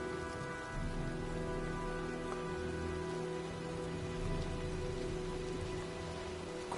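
Steady, dense rain pours from an approaching storm in the video game Heavy Rain, a broad continuous wash that stays even throughout, with faint tonal music-like lines underneath and no voices.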